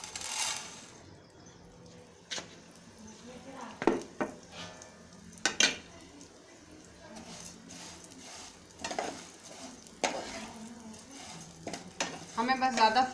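Vermicelli frying in a tablespoon of oil in a pan: a quiet sizzle broken by clinks and scrapes of a utensil against the metal, with some soft talk in the background.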